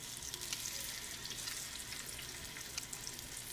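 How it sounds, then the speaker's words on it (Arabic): Merguez sausages fry in hot oil in a pan, with a steady, close, dense sizzle and crackle throughout and no voices. "والان بعد ما سخن الزيت تاعنا نحطوا هذوك المرقازات تاعنا، نحطهم هكذا في المغله"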